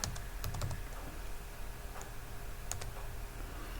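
A few faint, scattered keystrokes click on a computer keyboard against a steady background hiss, with no voices.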